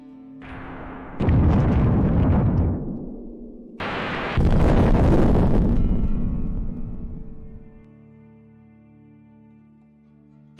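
A HIMARS missile strike hits a convoy of Russian rocket launchers, two heavy, loud blasts in quick succession, each a broad roaring boom that rumbles on before fading into a long low tail.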